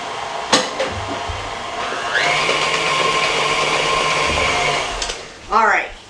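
Electric stand mixer running on low speed, blending milk and vanilla into pound cake batter, a steady close motor whir lasting about three seconds, with clatter before and after and a voice speaking over it.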